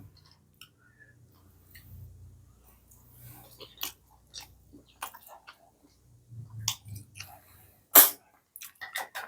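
Snails from Thai om hoi curry being chewed and bitten: scattered sharp crunches and clicks, close and fairly quiet, with soft low mouth sounds between them and one loud snap near the end.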